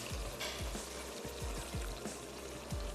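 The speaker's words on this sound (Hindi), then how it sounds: "अब मैं इसमें शामिल कर देती हूँ थोड़ी सी यखनी" Stock (yakhni) is poured into a pot of gulab kheer, giving a soft continuous pouring and bubbling sound with repeated low glugs, close and quiet, without talk.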